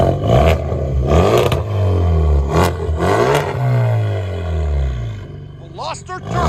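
A 2015 Hyundai Veloster Turbo with straight pipes and blast pipes revs hard, its loud raspy exhaust rising and falling through repeated throttle blips close by, with a voice talking over parts of it.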